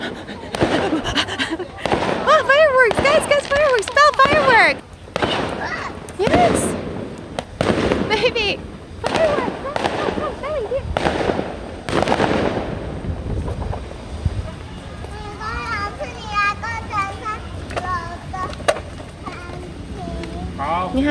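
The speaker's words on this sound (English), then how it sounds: "Oh, fireworks! Guys, fireworks!" Fireworks bursting over a city street heard from a bicycle ride, a rapid series of sharp cracks and booms in the first half, fading to scattered pops, with people talking and exclaiming over them.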